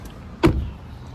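A car door shuts once with a single short, solid thud at close range, in a vehicle shown at a dealership, followed by a quiet fading tail.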